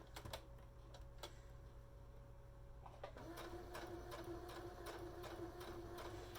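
A home sewing machine stitches fabric for a slip cover, sewing a couple of stitches and then back stitching. It runs as a steady mechanical whir with rhythmic needle clicks, fairly faint and continuous.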